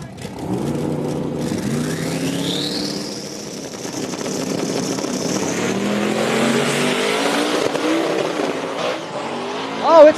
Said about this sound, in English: That's a drag race